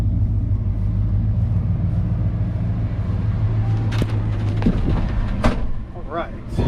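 Deep, throaty idle from the modified exhaust on a lifted 1990 Ford F150 XLT 4x4, a steady low rumble close at hand that runs throughout, with someone speaking over it in the second half.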